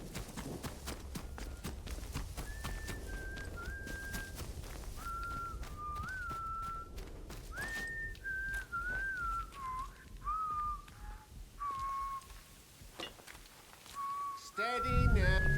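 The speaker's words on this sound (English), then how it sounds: "Heard whistling." Faint whistled melody from a character in the video game Atomfall, wavering notes over soft ambient game noise and occasional footstep-like clatter, ending in a louder thump.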